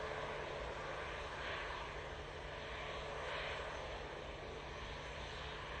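Airliner taxiing at Manchester Airport, a steady, faint, distant jet engine roar and whine that holds at an even level throughout, with no voices.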